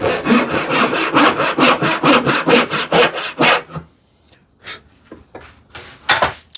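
Hand saw cutting a kerf into a wooden board for a shoe tidy, about a dozen rapid, loud rhythmic strokes that stop, followed by scattered quieter rasping pushes and taps.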